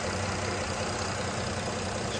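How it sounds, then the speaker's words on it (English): A 2012 Chrysler Town & Country engine idling smoothly after fuel injector replacement, a steady, even drone with no stumbling, close and continuous throughout. "she's idling really good now. She ain't stumbling no more"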